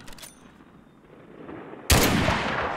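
Gunfire in the Mud and Blood war video game, a faint ringing tail at first, then a sudden loud sustained burst of shots that keeps going to the end.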